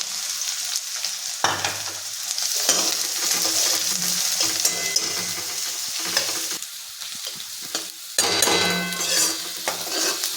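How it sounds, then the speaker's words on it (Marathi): Onions sautéing in hot oil in a pan, stirred continuously until browning; loud, close sizzling and frying with scraping stir strokes, surging as the onion is turned, no voices. "कांदा परतत राहायचं. तांबूस कलर येईपर्यंत आपण असा परततच राहायचं."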